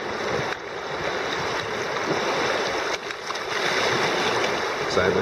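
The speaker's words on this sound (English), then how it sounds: "This is not exactly how you want to go through rapids." River water surges and splashes around a kayak shooting the Salt River rapids, a close, steady rushing wash with small splashes, voices loosely mixed in.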